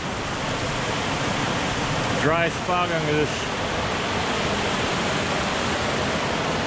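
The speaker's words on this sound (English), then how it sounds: "Get to sit and watch the creek" A mountain creek in the wilderness of Peaked Mountain rushes steadily and close by, a constant broadband wash of flowing water, with a short spoken phrase breaking in partway through.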